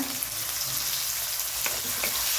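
Shallots and curry leaves sautéing in hot oil with mustard seeds and cumin, a loud continuous close sizzle with occasional stirring scrapes.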